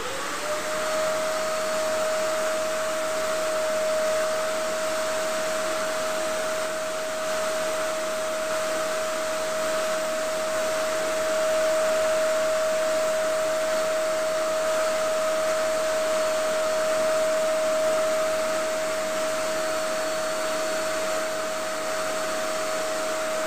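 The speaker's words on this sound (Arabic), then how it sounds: "دوك نشغل لاسبيراتور لانه الصوت تاعو قوي" A strong vacuum cleaner runs steadily and loudly throughout, its motor holding a constant high whine over broadband suction noise, used to suck the air out of vacuum storage bags packed with bedding and quilts.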